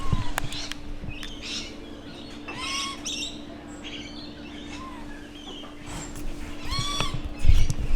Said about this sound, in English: the birds are slowly attacking our chips here